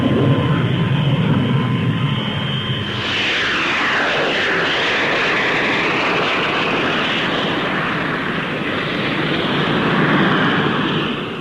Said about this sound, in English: Now Squadron Leader Tennant prepares to take up the Folland Nat-1,